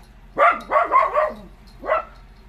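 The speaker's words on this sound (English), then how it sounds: "She's barking at the huge lorry that's just outside." A dog barking at a huge lorry just outside: four quick, fairly loud barks in a tight cluster, then a pause and one more bark, with no talk over them.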